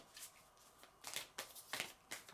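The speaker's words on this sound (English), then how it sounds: "This is such a difficult deck to shuffle. It's really big." Large, long tarot cards are shuffled by hand in several quick, riffling bursts with short pauses between, close and crisp.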